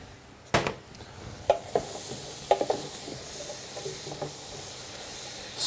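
Blanched peas are stirred in a pan with butter and wilted lettuce, a soft sizzle and hiss under a few scattered scraping and clinking strikes of the utensil against the pan, close and fairly quiet.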